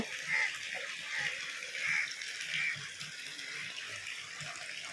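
Water draining out of a koi fish tank on a fish farm, a continuous rushing, splashing flow with faint rhythmic surges, moderately distant and without talk.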